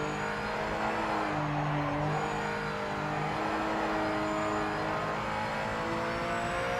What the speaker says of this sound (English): you can hear the wheels screeching